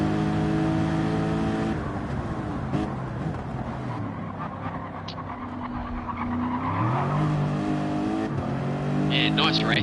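Race cars running side by side in a racing video game, including a Lexus, with engines revving and shifting pitch and tires squealing through corners, loud and continuous under commentary voices.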